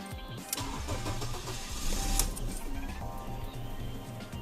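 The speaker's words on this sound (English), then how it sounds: "just put the key in the start position, and this should prime the fuel pump" BMW 316ti E46 with N42/N46 engine cranking on the key, a steady mechanical churning that runs the whole stretch at moderate level with no voices.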